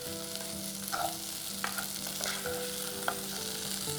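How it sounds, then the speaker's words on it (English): Vermicelli and rice being stirred gently in a pan with a low, steady sizzle underneath, soft scraping strokes of the spoon surfacing now and then over about four seconds, no voices. "give that a stir, reduce the heat slightly as well, but stir gently"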